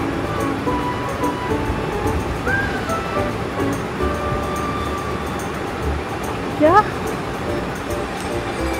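River water rushing loudly and steadily beneath a wooden footbridge on a forest trek in Uttarakhand, a broad continuous roar close by, with a brief rising chirp-like sound near the end.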